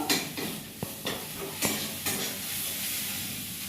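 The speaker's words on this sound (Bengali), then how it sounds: "আমি ভাজা ভাজা করে নেব" Bottle gourd leaves frying in a pan sizzle steadily while a spatula stirs and taps against the pan in several quick strokes near the start.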